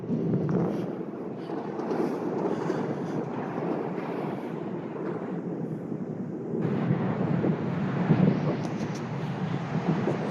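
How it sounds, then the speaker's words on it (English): Brisk wind near Lake Michigan in Gary buffeting the microphone outdoors, a continuous low rumbling roar that swells and gusts throughout, loud and close, with no other distinct sounds. "Excuse the wind, we're getting closer to Lake Michigan and the wind is kind of brisk out this direction."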